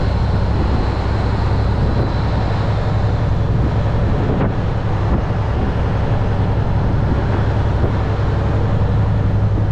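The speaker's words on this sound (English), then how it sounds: "I'm shifting whole gears here." Kenworth W900 truck with an Eaton Fuller 18-speed transmission, its engine droning loudly and steadily through the cab with heavy low rumble and wind-like roar, the shifts blending into the continuous noise.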